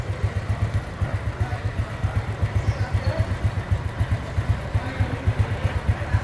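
A 2001 Honda Super Dream motorcycle idles steadily nearby, its engine giving an even, low, rapid pulsing thump with a smooth running tone and no voices over it.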